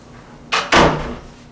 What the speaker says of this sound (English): why don't you go ahead and shut that door on your way out